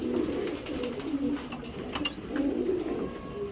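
Giribaz pigeons coo in soft, repeated throaty rolls close by, with a few faint chirps and rustles mixed in and no talk.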